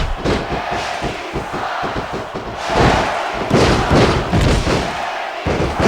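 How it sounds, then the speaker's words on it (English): A wrestling arena crowd roars throughout a Royal Rumble match in the WWE SmackDown vs Raw 2006 video game, swelling midway, with a run of rapid thuds and body impacts underneath. "He's got this crowd solidly behind him."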